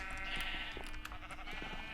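Sheep bleating in a video game, several short wavering bleats close by over a soft background hum, with no talk.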